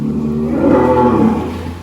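A single cow at a cattle farm lets out a loud, close, drawn-out low moo lasting nearly two seconds.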